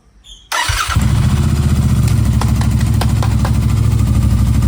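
A Royal Enfield Continental GT 650 motorcycle engine, fitted with an Ngage Iridium spark kit, cranks briefly, then fires and settles into a loud, close, steady idle rumble.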